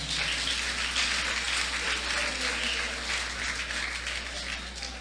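A church congregation at an evangelistic service gives sustained, dense applause like a steady downpour, with a low hum beneath it.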